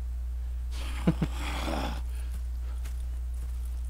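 A horse snorts and whinnies close by over a steady low hum, with a couple of soft hoof knocks afterward, in the video game Red Dead Redemption 2.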